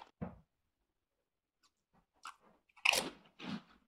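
Cheesy Takis rolled tortilla chips get bitten and chewed in a few sharp, close crunches separated by quiet pauses, faint overall, with the loudest bites near the end.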